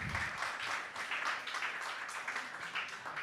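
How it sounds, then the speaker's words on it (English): An office crowd applauds a new team member at a weekly company breakfast, a steady patter of many hands clapping for a few seconds, moderately distant and alone without talk. "applause for him"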